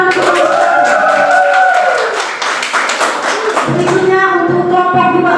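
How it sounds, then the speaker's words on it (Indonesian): Students in a classroom clap together after a teacher announces a group's score, a loud burst of dense clapping and cheering voices that gives way to children chattering near the end. "Tepuk tangan."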